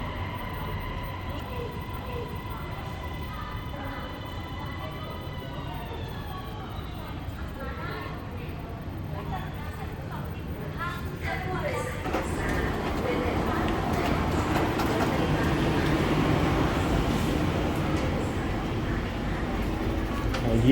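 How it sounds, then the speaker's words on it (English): A Bangkok MRT metro train pulls into an underground station, a rising hum and tonal whine building over several seconds into a broad, steady rumble, with station ambience throughout. "The train is coming in."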